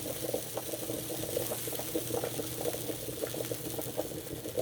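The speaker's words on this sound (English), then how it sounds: "The pot is really bubbling, folks." Fish soup bubbling hard in a pot on a stovetop, a quiet, continuous rolling boil with small irregular pops and gurgles, heard alone and close.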